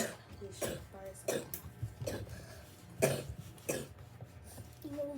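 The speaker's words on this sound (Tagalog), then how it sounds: "Inuubo pala ako, guys." Repeated harsh coughs, about six or seven spaced bursts over a few seconds, close and fairly loud, with some throat clearing and a little talk in between.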